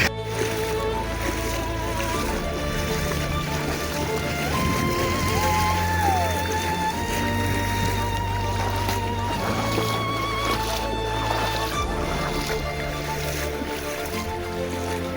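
Steady rushing water of a river being waded across fills the scene, close and continuous, with a low droning hum and some splashing.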